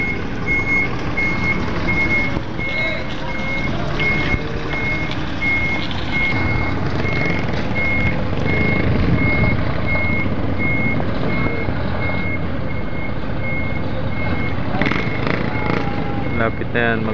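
A bus backs up amid a busy terminal, its reversing alarm beeping in a steady, evenly spaced series over continuous engine rumble, crowd chatter and nearby voices.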